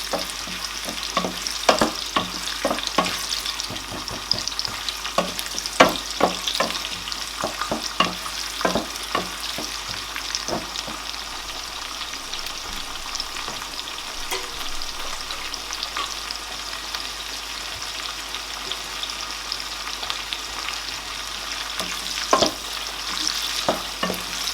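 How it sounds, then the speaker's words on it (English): Onions sizzle and crackle in hot oil for Nigerian egusi soup, a steady close frying hiss broken by frequent sharp pops and stirring clicks throughout, with no talking. "I'm going to add my onions because I don't want the oil to be too hot"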